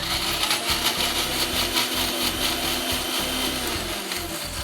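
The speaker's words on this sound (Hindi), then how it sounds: "इसको आपने मिक्सी में पीस लेना है।" A kitchen mixer grinder whirs steadily, grinding roasted tomatoes and garlic without water into chutney, a continuous loud motor drone with rattling blades for several seconds and no talk.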